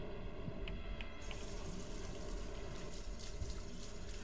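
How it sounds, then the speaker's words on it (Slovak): Steady stream of water running from a tap in the video game Fears to Fathom, set in a motel, a continuous rushing flow that grows brighter after a moment and carries on alone without talk. "Teraz nám bude furt tiecť voda."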